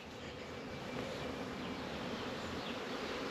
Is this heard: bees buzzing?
yes